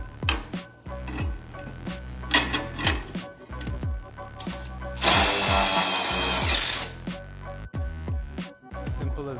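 A power drill drives sheet metal screws into a mount while a Balance Box 400 mobile stand is assembled: a run of short, close whirring bursts with brief pauses, then one longer sustained whine before more quick bursts.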